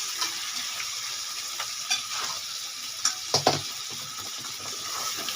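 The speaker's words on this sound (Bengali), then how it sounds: "মশলার সাথে মাছটা দিয়ে দিব" Taki fish added to spices in a hot pan, sizzling and frying steadily up close, with a few sharp stirring clicks and knocks against the pan, no voices.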